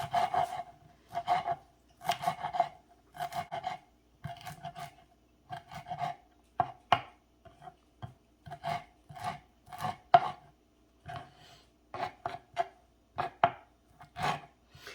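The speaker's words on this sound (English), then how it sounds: "You want to make sure you cut your cilantro up real nice and fine" A knife chopping fresh cilantro finely on a cutting board: brisk, irregular bursts of crisp taps, close and clear, with short pauses between runs and no voices.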